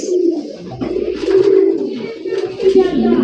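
A fancy pigeon, such as an Indian Jacobin or Lahori, gives a low, rolling coo from a nearby cage, continuous and fairly loud, with a voice mixed in.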